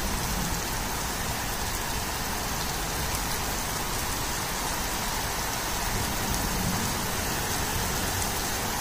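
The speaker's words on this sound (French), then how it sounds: "Début d'orage." Steady, dense rain pours at the start of a summer thunderstorm during a halted wheat harvest, a constant close hiss with no pauses.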